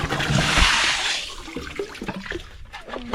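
Water gushing and spraying while a backyard homestead fish pond is being filled, a loud rushing hiss that fades into gurgles, splashes and trickles.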